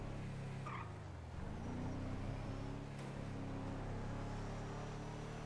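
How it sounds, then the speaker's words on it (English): A car approaching at a distance, its faint engine noise rising slightly against steady background road rumble, with no voices. "I did not trust the sound of that car coming"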